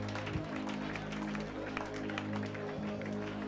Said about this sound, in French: Des applaudissements pour la Suisse